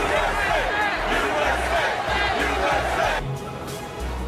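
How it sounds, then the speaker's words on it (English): A stadium crowd at an NFL game in Wisconsin chants USA, a loud, dense, continuous roar of many voices that swells in rhythmic pulses and eases slightly near the end. "A chant of USA also barreling through the stadium up there in Wisconsin."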